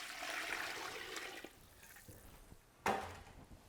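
Cold water poured into a pot for brown chicken stock, a rushing splashing stream that tapers off, then a brief clank and short second pour, heard alone without talk.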